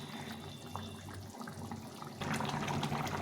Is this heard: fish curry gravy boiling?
yes